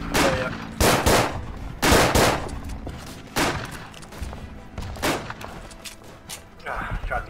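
Machine gun fire in the World War I trench shooter Verdun, coming as a string of loud, separate bursts spaced roughly a second apart over a steady backdrop of battlefield noise.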